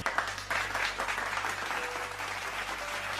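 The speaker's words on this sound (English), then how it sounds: "Lightning, look how they applaud you." Steady applause from a crowd in a Minecraft video game, continuous and fairly full, with a low synthetic hum underneath throughout.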